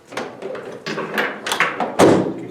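Door clip on a suitcase sprayer being handled, a series of plastic clicks, taps and thumps up close, the loudest knock near the end.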